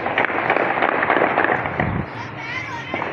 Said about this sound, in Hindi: ये जो लोग फायरिंग कर रहे हैं ना